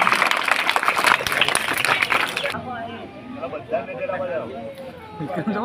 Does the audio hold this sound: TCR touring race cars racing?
no